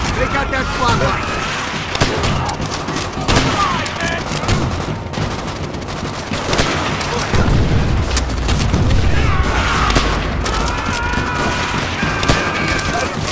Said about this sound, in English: Enemy machine gun! Pin down on the beach!